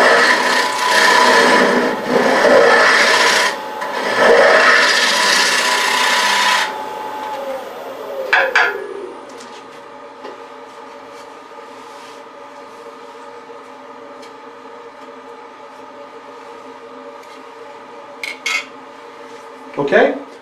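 A woodturning tool levels the face of a walnut bowl blank spinning on a lathe, giving a loud, steady scraping rasp for several seconds, then the cutting stops and a quieter motor hum continues with a few faint knocks.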